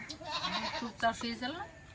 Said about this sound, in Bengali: মা তোমার ছাগল সমানে ডাকছে